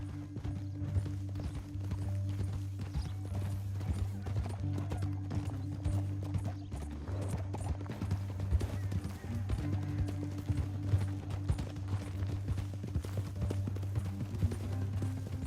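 Horse hooves clip-clop in a steady galloping rhythm in the Western video game Red Dead Redemption 2, close and continuous, with a low droning hum underneath and a brief whinny.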